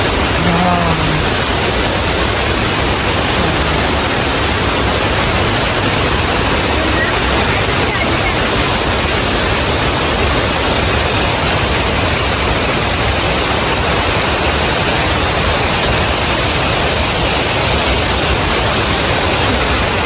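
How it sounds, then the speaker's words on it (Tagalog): Waterfall pouring in a loud continuous broadband roar, heard up close at its base and filling the whole stretch without letup. "bumaba na tayo dito sa waterfalls mismo"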